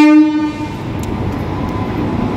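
A train pulls into platform 4 at Malda station with a loud, sustained horn blast, followed by the steady rumble and clatter of rolling wagons close by.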